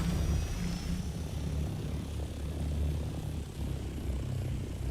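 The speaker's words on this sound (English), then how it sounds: "So what I'm gonna do is get into the copter." A helicopter flies in the survival video game Dune: Awakening, giving a continuous low rotor thrum and engine drone at steady, moderate loudness with no talking.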